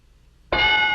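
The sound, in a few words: bell ding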